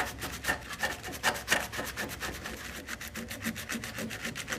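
Sandpaper rubbing paint off the sheet-metal fuel tank of a Honda CBR 600 F3, a fast run of close back-and-forth scraping strokes in a steady rhythm.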